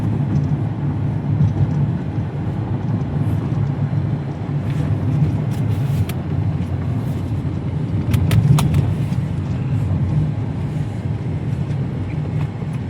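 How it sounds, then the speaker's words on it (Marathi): A car rolls along a rough, uneven main road, its low steady rumble of tyres and engine filling the cabin throughout, with a few brief rattles and knocks from the bumpy surface. "मेन रोडला वगैरे थोडा खराब रस्ता असला तर आवाज येतो"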